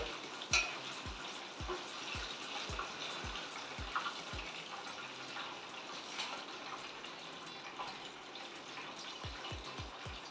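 Chicken pieces from a Cookd fried chicken kit deep frying in hot oil, a faint steady sizzle and crackle with a series of sharp clicks and taps near the start and end, no talking.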